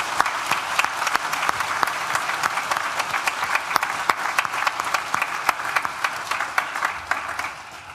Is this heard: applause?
yes